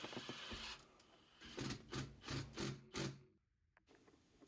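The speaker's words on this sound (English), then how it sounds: "we can use some self-tapping screws to secure it in place" Self-tapping screws being driven to secure a VELIT heater inside a 2025 Ford Transit campervan, several short whirring bursts of a driver in quick succession, close and fairly quiet, then stopping.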